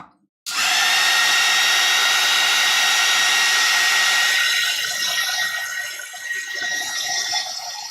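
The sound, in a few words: hair dryer drying a watercolor painting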